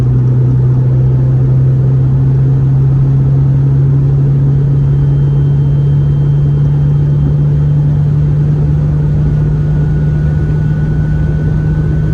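A front-wheel-drive car drives along with a loud, steady engine drone and a low rumble throughout. It sounds close, as if heard from inside the car, and no one speaks.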